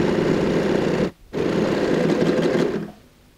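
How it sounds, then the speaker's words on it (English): A sewing machine runs steadily to put an edge stitch along a bag pocket, a dense close mechanical whir with a brief stop near the middle before resuming, then dropping away at the end. "let's just go ahead and sew an edge stitch"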